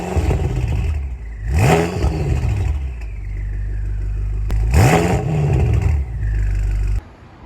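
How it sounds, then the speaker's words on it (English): Exhaust of a 2014 BMW M5 blipped twice from idle, each rev a sharp rising roar that falls back to a steady rumbling idle, loud and close, with a click between revs and the engine cutting off at the end. "Now I will tell you what the exhaust sounds like right here."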